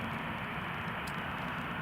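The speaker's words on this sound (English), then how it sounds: "the sound you've just heard going overhead though is the sound of EasyJet A320 from Amsterdam to Edinburgh" EasyJet Airbus A320 passing overhead near Newcastle International Airport, a broad, steady jet roar with airy hiss, fairly distant and even in level across the short stretch.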